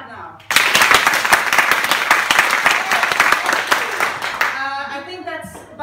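Loud applause from a theater audience at a Stockholm class show, voting for a favorite story, begins abruptly and fades after about four seconds, followed by someone speaking.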